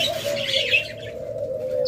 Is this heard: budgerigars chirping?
yes